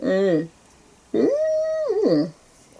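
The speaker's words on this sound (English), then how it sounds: "a yapping dog, you know, a small yapper type dog." A small yapper-type dog gives a short whining yelp, then a longer drawn-out howling whine that wavers at the end, both loud and close, with a quiet pause between and no other sounds.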